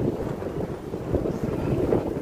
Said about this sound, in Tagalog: Mahangin dito ang mahangin.